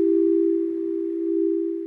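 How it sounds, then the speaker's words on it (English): A synth chime played through a wobbling tape-style delay holds as a steady, sustained tone, pitch slightly drifting, alone and fairly loud for about two seconds. "you get that nice kind of echoey chime"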